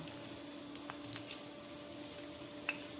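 Whole garam masala and two dried red chillies sizzle in a little hot oil for Bengali mutton kasha: a quiet, steady frying hiss with a few sharp crackles and pops.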